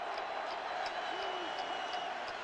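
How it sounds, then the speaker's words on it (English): Crowd applause and a steady roar from West Virginia Mountaineers fans at a 1988 college football game against Notre Dame, a dense wash of clapping and noise that fills the whole stretch at a fairly distant, even level. "and the Mountaineers applaud."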